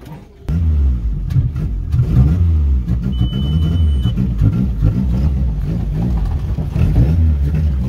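Engine of a jeepney (Jipper) bus heard from inside while riding, a steady mid-pitched motor drone with gentle revving, loud and continuous, with voices talking over it.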